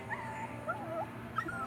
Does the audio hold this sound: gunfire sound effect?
no